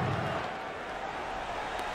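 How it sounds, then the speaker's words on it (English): A packed NBA 2K15 basketball arena crowd keeps up a steady, dense roar throughout, with no distinct voices. "how about the intensity and focus of the crowd here? So loud in this place"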